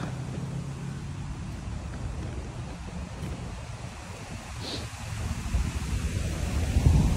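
Wind blowing outdoors in a green open space, heard as continuous low rumbling buffeting against the microphone that swells louder near the end, with no talking.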